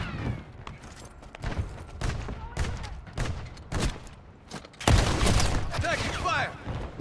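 Gunfire in a Call of Duty Modern Warfare 3 Ground War match, with repeated bursts of shots and thuds in irregular clusters and a heavier loud barrage near the end, mixed with game voice callouts.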